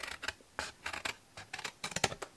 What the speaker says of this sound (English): This calls for big scissors.